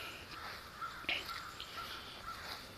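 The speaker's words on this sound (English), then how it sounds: "But listening to these crows" Crows cawing outdoors in an alpine setting, several short harsh calls spaced across the clip at moderate distance, over a steady background of insect buzz and faint ambient noise.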